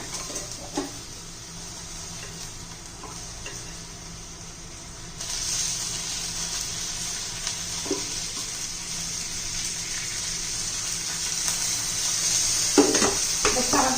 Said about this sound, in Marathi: तेलामध्ये परतून घेऊ दोन चार मिनटं परतून घेते